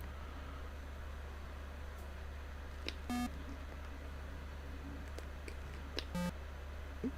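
Atari 8-bit Solitaire from 1981 gives two short electronic beeps about three seconds apart, each a brief buzzy tone over a steady low background hum, with faint clicks between.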